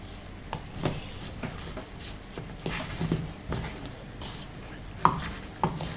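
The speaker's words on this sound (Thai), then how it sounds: "ใช้มือนะฮะนวดเครื่องปรุงให้เข้าไปในเนื้อไก่นะฮะ" Hands knead seasoning into raw chicken as a marinade for American fried rice, producing soft, irregular squishing and rubbing sounds in a quiet kitchen with no one talking.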